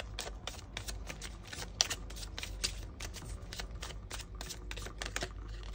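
Tarot cards being shuffled and drawn, a quiet run of quick papery riffles and soft snaps repeating close by, with no talk over it.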